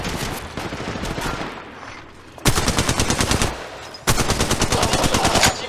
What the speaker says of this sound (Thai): กำลังยิงแล้วกำลังโดนยิง